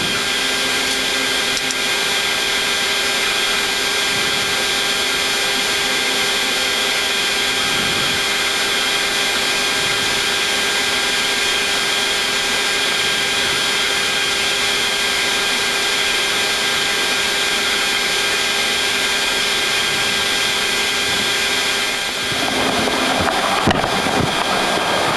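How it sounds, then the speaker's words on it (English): Boeing 737 MAX engine number one spooling up, heard from inside the cockpit on the ground at Ostend as a loud steady whine with high tonal hum and broadband roar, with a brief burst of noise near the end. "Start number one engine."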